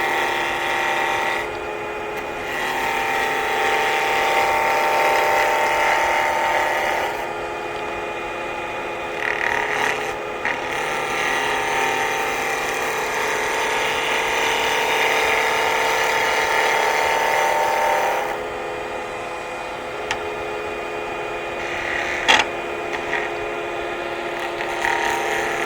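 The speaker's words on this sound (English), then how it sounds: "I'll get it with the spindle gouge" Wood spinning on a lathe as a spindle gouge cuts a standing magnifying glass part, giving a steady broadband shaving hiss over a motor hum that drops briefly in places, with a sharp tick near the end.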